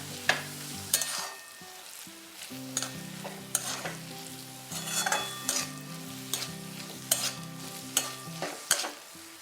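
Gram flour being stirred with drumsticks in a hot pan for zunka, a soft sizzle broken by repeated scraping and knocking of the spoon against the pan at an uneven rhythm.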